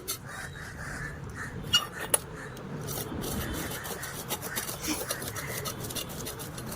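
Ash rubbed by hand over a murrel fish, a steady gritty scraping and rasping that keeps going without a break, fairly close, with a few sharper knocks mixed in.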